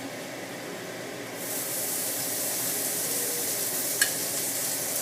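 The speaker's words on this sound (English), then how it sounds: "we've got another pupusa ready to put on the griddle" A pupusa laid onto a hot griddle sizzles steadily, the hiss rising and swelling after a second or so and then holding as a continuous close frying noise, with a small tick partway through.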